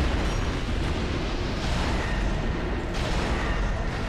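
A bomb explodes in the video game Dark Souls 2, set in Brume Tower, giving a loud, rumbling boom that fills the moment with a dense, continuous roar from start to finish without any voices.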